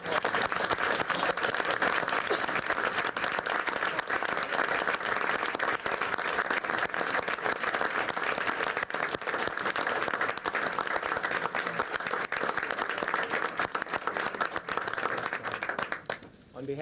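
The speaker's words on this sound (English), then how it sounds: "let's give another round of applause" A long round of applause from the audience at a 1996 school board meeting, many hands clapping in a steady, even wash that continues at a moderate, slightly distant level throughout.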